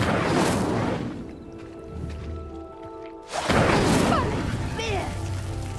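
Incendio fire spell in Hogwarts Legacy: a loud whooshing burst of flame lighting stone pyres, a quieter pause, then a second roaring rush of fire.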